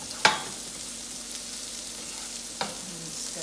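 Vegetables for ratatouille frying and stirred in a pan, a steady soft sizzle with two sharp clatters of the spoon, one near the start and another later, alone with no talk.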